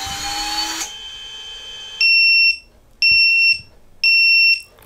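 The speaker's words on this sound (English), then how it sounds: "We're getting the beeping because we've lost the signal from the radio and all the motors have stopped." A Diatone GT2 2017 FPV racing drone, its motors stopped after losing radio signal, sounds a failsafe alarm: after a brief stretch of noise, three loud, steady high-pitched beeps of about half a second each, spaced a second apart.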